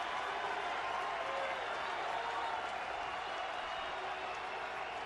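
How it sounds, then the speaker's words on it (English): A standing baseball crowd at a Giants–Diamondbacks game roars in the ninth inning of a one-run contest, a sustained, even wall of cheering and clapping that fills the whole stretch. "Crowd making a lot of noise on their feet"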